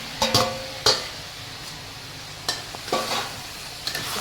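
Aloo gobi, potato and cauliflower, frying in oil in a pan, a low steady sizzle broken by a few distinct clanks and scrapes of a spoon stirring against the metal, close up and with no one talking.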